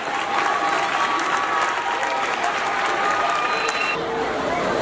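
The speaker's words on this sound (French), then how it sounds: "Si vous êtes content, applaudissez pour vous-même." Schoolchildren applaud at a school bench-donation ceremony in Bandal, a dense, continuous clapping crowd close by with some cheering, steady throughout.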